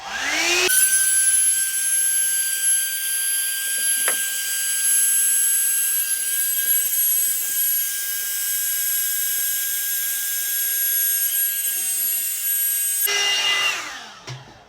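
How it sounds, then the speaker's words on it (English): A hair dryer, used with a round brush on dry hair, whirs steadily with a high-pitched whine, starting abruptly and cutting off near the end, loud and close throughout. "It's a blow dryer"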